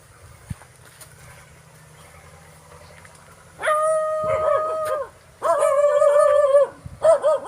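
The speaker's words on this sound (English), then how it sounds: "Can see there's a dog there, and I heard him coming" A dog by the roadside gives loud, drawn-out howling barks in two long bursts and a short final yelp, following a quiet stretch of faint road hum.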